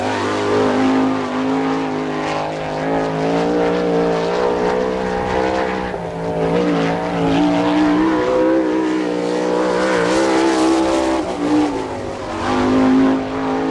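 A sprint car of the All Star Circuit of Champions runs a lap at the Attica, Ohio dirt track, its engine roaring loudly and steadily throughout with shifting pitch as it powers around.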